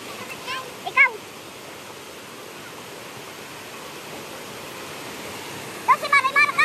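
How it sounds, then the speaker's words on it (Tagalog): Loud rushing water at a swimming spot fills the scene with a steady broadband roar, while a few short distant voices and shouts break through near the start and end. "Hindi nila marinig dahil sa ano ng tubig. Sa ingay ng tubig."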